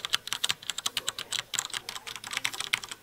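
A clicky new computer keyboard being typed on quickly and close up, with sharp, irregular clacks in fast bursts and no talking.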